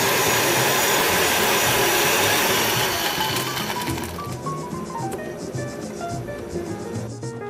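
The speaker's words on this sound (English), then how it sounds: "I have diced up the banana and already added with the orange juice in the blender and add some ice" Kitchen blender crushing diced banana, orange juice and ice, a loud grinding roar that eases after a few seconds as the motor pitch falls and the mix turns smooth, without talking.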